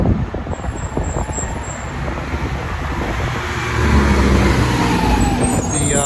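A Mack Metro Liner cement truck at a construction site engine rumbling steadily in city traffic, a low heavy drone that swells louder toward the end amid passing road noise.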